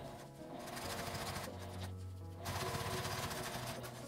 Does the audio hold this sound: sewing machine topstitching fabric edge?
yes